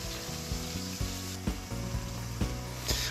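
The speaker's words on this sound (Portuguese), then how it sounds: "você não pode, né, refogar demais esse filé mignon" Strips of filet mignon seasoned with shoyu sizzle and fry in a hot pan, a steady crackling hiss broken by regular stirring scrapes roughly every half second, close and alone without talk.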